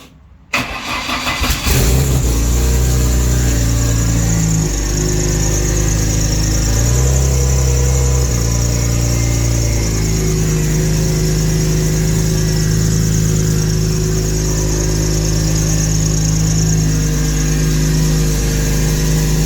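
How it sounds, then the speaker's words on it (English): A Ford Escort Mk2 engine cranks and starts, then runs loudly at idle with a steady high-pitched squeal from an LS1 pulley bearing throughout. "That squealing you hear, that's the LS1 pulley and bearing."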